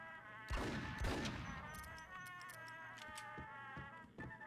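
A sawed-off shotgun firing in Max Payne, two loud blasts in quick succession near the start, followed by lighter clicks and impacts over a droning tonal background.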